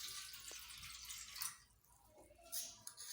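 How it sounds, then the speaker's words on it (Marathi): Water pouring into a cooking pot in a home kitchen while preparing a Khandeshi-style red brinjal curry, a steady splashing stream with drip-like accents, fairly faint and alone. "एका भांड्यामध्ये आपण पाणी टाकून घेऊ."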